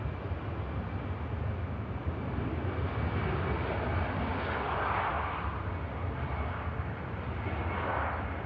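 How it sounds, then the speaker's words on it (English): An EasyJet airliner on its takeoff roll produces a loud, continuous engine roar with a broad rumbling low end and a slowly swelling whine, heard from the side of the runway at Manchester Airport. "EasyJet on the takeoff roll."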